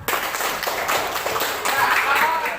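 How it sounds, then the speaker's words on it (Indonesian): A classroom of students clapping their hands together in brisk, uneven applause, moderately loud and steady, with a few voices mixed in. "Tepuk tangannya dulu."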